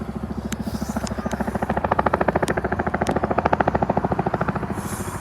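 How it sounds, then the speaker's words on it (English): An RAF Chinook helicopter flies low near Bournemouth Airport, its twin rotors producing a loud, rapid rhythmic thudding that swells and peaks midway, then eases slightly, with no talk over it. "That's the lowest I've seen a Chinook."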